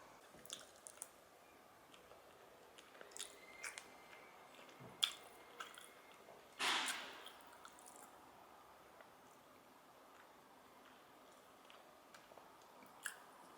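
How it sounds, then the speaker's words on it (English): Spoonfuls of vegetable soup with chili being eaten, with quiet squishy chewing and slurping sounds close to the mic, scattered and faint, then louder wet slurps partway through, no talking. "I'm going to get to eating this soup."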